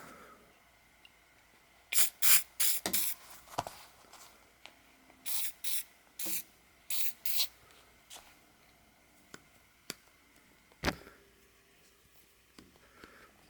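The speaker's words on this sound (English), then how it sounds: "Spray some WD-40 on it." Short bursts of WD-40 lubricant sprayed onto a rusty hand tool, a sharp hissing spritz repeated in clusters, with light handling clicks between, close by and no speech.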